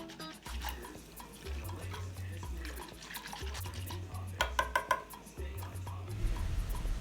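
A spoon stirs cornmeal porridge mix in a pot for Tuo Zaafi, giving repeated scraping and sloshing strokes with occasional clinks against the pot and a low hum underneath.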